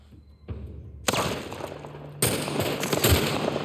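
A burst of gunfire in the video game The Last of Us Part 1 on PS5, with sharp onsets and loud crackling, dense noisy bursts that keep rolling, with no talking.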